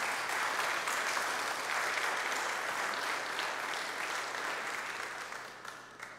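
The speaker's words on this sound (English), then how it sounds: "would you give them a round of applause?" An indoor audience at a service claps in sustained, dense applause for several seconds, loud and even before gradually tapering off toward the end.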